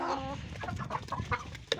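Young roosters after two days of rain cluck and call in short, close bursts, a continuous stream of fowl noises with a sharper cry near the end.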